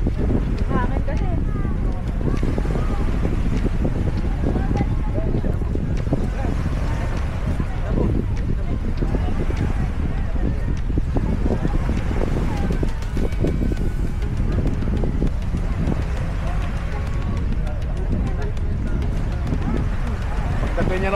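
Strong wind buffets the microphone on a Boracay beach, a constant low roaring rush that runs without a break, with people talking underneath it throughout.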